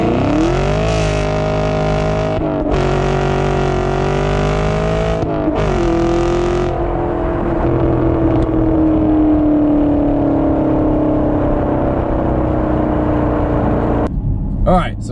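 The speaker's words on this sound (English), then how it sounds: "the first thing that I want to talk about is the exhaust" A 2019 Chevrolet Camaro 1LE exhaust revs repeatedly in sharp bursts, then settles into a deep, loud burbling idle that swells and fades, heard up close.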